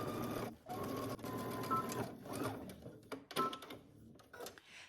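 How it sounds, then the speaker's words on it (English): A home sewing machine stitches a garment shoulder seam at a 5/8-inch allowance for Simplicity pattern 9550, whirring steadily up close with a few short stops and restarts. "we're going to stitch using 5/8 of an inch seam allowance"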